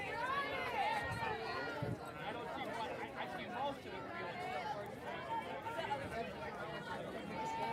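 Spectators at a high school softball game in Bethpage keep up a lively, close chatter of overlapping voices and calls, a steady crowd babble with occasional movement and footsteps underneath.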